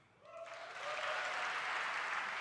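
An audience applauds a deaf poet, the clapping swelling quickly from a quiet start into a full, sustained wash of hands that holds steady to the end.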